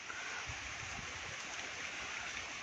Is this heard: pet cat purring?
no